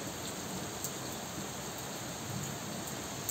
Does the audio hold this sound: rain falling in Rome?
yes